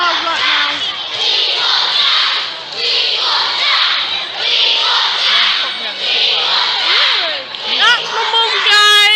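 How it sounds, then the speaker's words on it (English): A large crowd at a DanTDM live tour show roars and cheers continuously, a dense wash of young voices shouting, with a nearby voice speaking over it. "Guys, look at the crowd."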